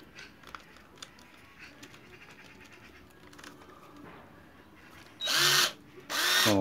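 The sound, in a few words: drill boring a hole in a potato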